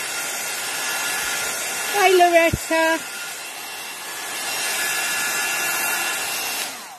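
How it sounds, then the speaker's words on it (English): A steady blowing roar from a heat gun runs throughout, with a brief voice speaking over it partway through. "especially if I bring out my heat gun, so please excuse the noise"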